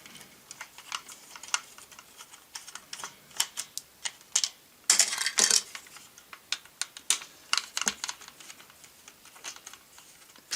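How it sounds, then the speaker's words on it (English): Screws are taken out of a vintage Transformers Optimus Prime toy, making close, sharp plastic clicks and scratchy ticks in an irregular run, with a short louder rattle in the middle. "So let's get this all unscrewed and into pieces so that we can give it a good clean."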